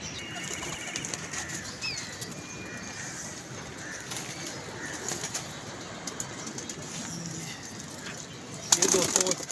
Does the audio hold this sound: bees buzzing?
no